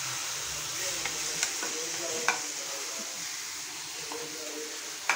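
Tomatoes and onions frying in a home kitchen pan give off a soft, steady sizzle, broken by a few light clicks of stirring, faint and close with no talk over it.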